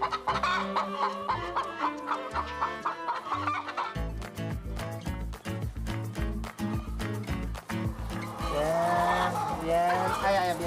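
Hens cluck repeatedly inside a chicken coop during egg collection, with busy overlapping calls set against rhythmic background music that grows louder toward the end.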